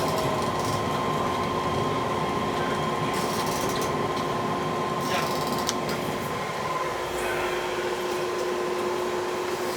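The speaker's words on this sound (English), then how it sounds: "This train is approaching Terminal 2." An airport terminal shuttle train runs on its rails with a steady, close rolling rumble and a constant mechanical hum that holds for the whole stretch, and a voice sounds faintly over the noise.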